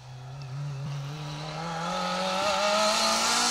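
A Clio rally car climbs a hill on an asphalt stage, its engine note rising steadily as it revs hard and draws nearer, growing louder through the gears.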